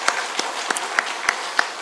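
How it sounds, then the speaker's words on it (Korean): A church congregation applauds together during a Sunday service, with fairly sparse but steady claps that sound moderately close. "우리 다시 한번 우리 하나님께 영광의 박수 올려드리겠습니다."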